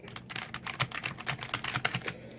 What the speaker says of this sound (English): So this obviously is a membrane keyboard. It's a mechanical feeling membrane keyboard. You know, and it is nice and quiet.